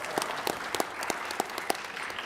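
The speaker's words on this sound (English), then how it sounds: "let's clap for that" An audience at a collective impact convening applauds: a crowd of hands clapping in a steady wash, with a few nearer, sharper claps standing out in a loose rhythm, and no talking.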